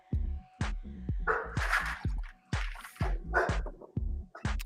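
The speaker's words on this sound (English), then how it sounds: "I got 2 pit bulls, guys. 2 pit bulls. And they're going nuts right now." Two pit bulls bark loudly and repeatedly at close range in sharp, uneven bursts, with a few higher yips mixed in, and no talking over them.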